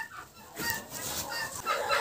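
Broody turkey hen clucking softly on her nest, a few low, close, muffled clucks over faint background noise.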